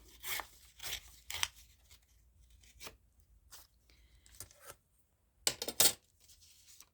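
Paper scrap is trimmed during paper bag making, a series of sharp crisp snips and tearing crackles in short separate bursts, close and fairly quiet, ending in a louder cluster of cuts.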